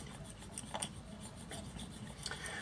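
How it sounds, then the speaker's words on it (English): Steady soft rasping and rubbing from slowly working the inside of a dented pocket watch case, with wood used to control pressure, continuous and close with small scraping bursts, no talking. "I'm going to blend it all in by slowly rubbing the inside of the case"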